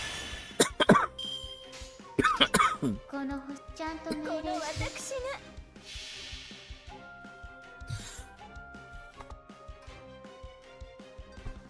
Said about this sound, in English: Sorry about all the incessant coughing over there.